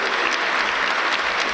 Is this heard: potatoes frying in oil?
no